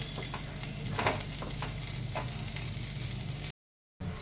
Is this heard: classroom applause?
no